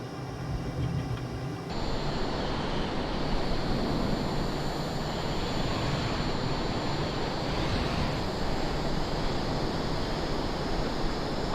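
Wind roars across a windy airfield in Microsoft Flight Simulator during a stall, a steady, broad rushing noise that swells after a brief opening passage and holds loud and unbroken to the end.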